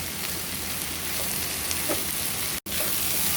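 Soya chunks roast stir-fried in a pan, giving a steady close sizzle and frying hiss that runs throughout, broken by one brief silent gap near the end.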